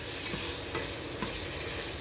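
Chicken sizzles in a pan in a loud, continuous frying hiss, with a couple of soft stirring knocks partway through.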